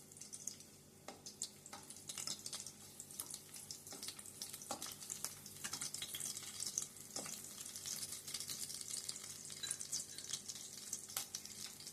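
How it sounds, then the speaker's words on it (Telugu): Garlic cloves fry in hot oil for a carrot beetroot fry, giving a soft, continuous sizzle with scattered pops and crackles, close but fairly quiet and without talk. "వెల్లుల్లిపాయలు ముందు కొద్దిగా వేగనిద్దాం."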